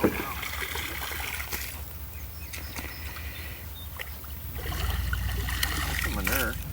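Water flushes through a manure pipe on a farm as a tank load is run through it, a steady rushing and trickling flow that swells louder in the final seconds, with some voices in the background.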